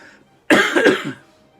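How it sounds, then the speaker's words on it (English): One loud, close cough bursts out and fades quickly, followed by near quiet. "You may hear some coughs like this."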